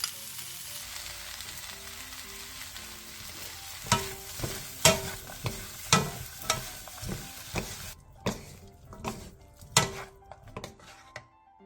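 Ham and potatoes stir-fried with chillies and green onion, with a spatula scraping and clacking against the pan in irregular close strokes over a soft continuous sizzle, no voices.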